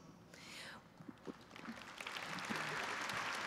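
Applause from a commencement audience builds, scattered claps at first swelling into steady clapping, heard at a moderate distance; a voice murmurs briefly at the start.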